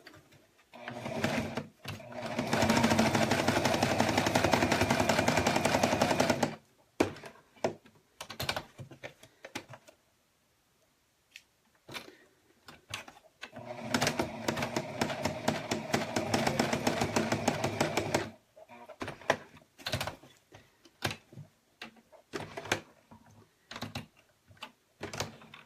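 Sewing machine stitching a snowglobe mini quilt with black thread, steady whirring runs of several seconds broken by pauses and clicky stops and starts, close and fairly loud.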